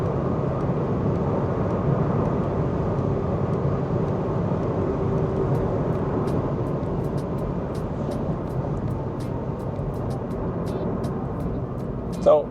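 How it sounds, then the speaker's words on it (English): Steady broadband wind and road roar fills the cabin of a 2018 Opel Astra cruising at about 130 km/h on the highway, a constant medium-level rush that ends in a brief bump. "the noise inside the car is it's at a medium level, mostly because of the wind"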